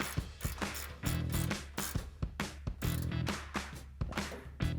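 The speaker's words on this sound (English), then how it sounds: "Now take a 13mm ratcheting wrench and snug that up." A 13mm ratcheting wrench snugging an exhaust hanger bolt on a Ford F-150 dual exhaust install, close rapid ratchet clicking in repeated short strokes with brief pauses.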